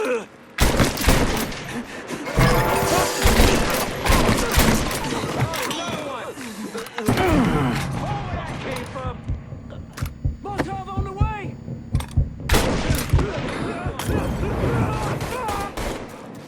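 Loud, rapid gunfire erupts in a Mafia 3 shootout, sharp shots in clustered bursts with pauses, while voices shout between volleys.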